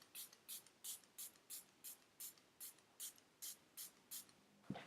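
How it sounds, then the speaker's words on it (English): Setting spray misted onto a face in about a dozen quick, evenly spaced hissing bursts, close and soft, each short spritz alone with no talking. "I really like douse my face in setting spray afterwards just to get that like powdery finish away"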